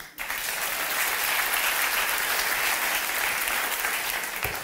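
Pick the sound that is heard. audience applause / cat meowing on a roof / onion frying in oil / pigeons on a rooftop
audience applause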